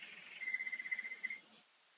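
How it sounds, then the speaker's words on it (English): A pet canary gives a thin, sustained trilling chirp followed by one sharp higher note, faint and distant in a quiet room. "Now the noise you hear in the background, that is Charlie the canary"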